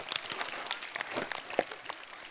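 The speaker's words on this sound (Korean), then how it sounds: "여러분 큰 박수 부탁드립니다." Applause from a small audience of students at a cooking presentation, light scattered clapping with a few louder claps, fairly close and continuous for a couple of seconds.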